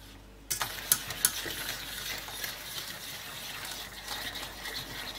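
A spoon stirs egg cream custard thickening in a pot, scraping and clinking softly at first, then settling into a continuous low swishing.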